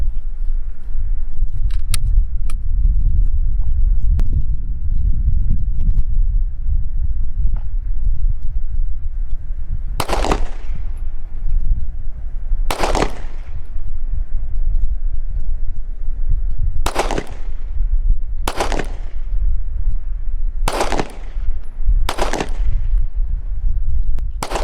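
A Glock 19 pistol fires about seven sharp, loud shots at irregular intervals toward a target 50 yards away at an outdoor range, over a constant roar of wind and background noise.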